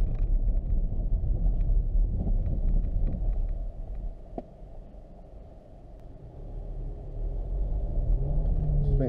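A Renault Kardian Turbo rolls over a rough, uneven road, giving a continuous low rumble of tire and suspension noise mixed with wind buffeting. The level eases briefly in the middle, then returns to full strength.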